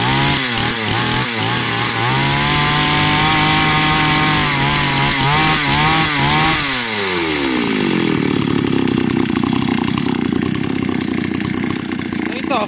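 Ursus tractor engine, just started, idling low with a steady chugging beat, then revving up as throttle is added, pitch climbing and settling into a louder, faster run; close and loud.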